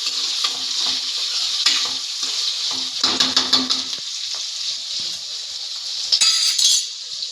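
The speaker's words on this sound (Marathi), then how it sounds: "आता आपण 3 मोठे चिरलेले बारीक कांदे टाकणार आहोत। तर चांगलं परतायचं आहे।" Three large finely chopped onions sautéing in a hot pan for a Konkan-style red amaranth dish, a loud continuous sizzle broken by bursts of spatula stirring and light clinks.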